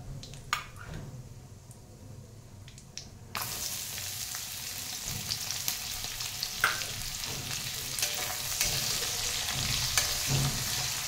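Onion hits hot oil already holding bay leaf and cardamom: a quiet start with a few clinks, then a sudden loud hiss that settles into a steady sizzle, with occasional stirring scrapes.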